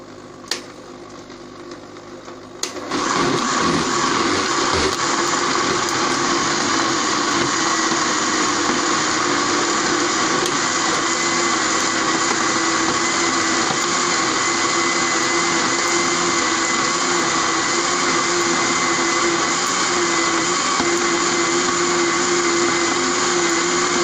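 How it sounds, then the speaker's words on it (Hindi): A kitchen grinder blends cooled cooked tomatoes into ketchup, starting after a short quiet lead-in and then running as a loud, steady whirring drone that lasts through the rest of the clip on its own. "अब इसको हम ग्राइंड कर लेंगे।"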